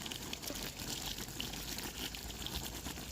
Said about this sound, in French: je rince les 2 baies qu'on a déjà